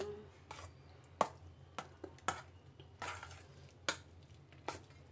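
Chicken macaroni salad is stirred in a bowl, quiet irregular scrapes and clinks of a utensil against the bowl with soft squishy mixing between them.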